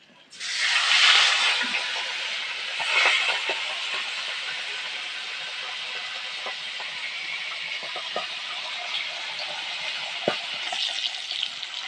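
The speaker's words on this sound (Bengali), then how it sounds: "বাকি মাছগুলোও ভেজে নেবো" Gurjali fish frying in oil gives a steady, fairly loud broadband sizzle throughout, with a slightly stronger burst near the start and occasional small pops and crackles.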